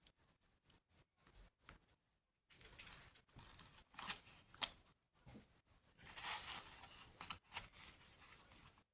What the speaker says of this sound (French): je retourne et je vais enlever les protections